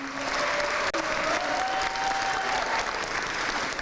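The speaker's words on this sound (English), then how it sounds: "Please give the faculty a hand." Audience at a university honors convocation applauding the faculty, a dense, steady wash of clapping that fills the hall at close range, with a faint tonal voice or whistle rising briefly through the middle.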